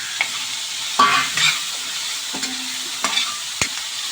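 Onions frying with peas and carrots in a pan, a steady sizzle broken by a few sharp scrapes and clinks of a spoon stirring, close and fairly quiet, with no talking.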